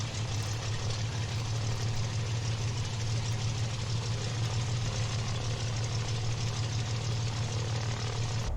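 A Cessna 182 engine idles in Microsoft Flight Simulator 2020, a steady low propeller drone that holds at an even, fairly loud level throughout with no voices.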